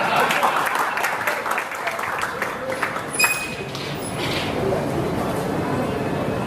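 An audience at a Tamil stage performance of memory feats claps in a long, steady burst, with a dense patter that swells and then holds level.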